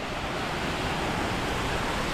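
Waterfalls rush down a steep 30 to 40 metre drop in a Scottish valley, making a loud, steady, broadband roar of falling water heard up close with no voices.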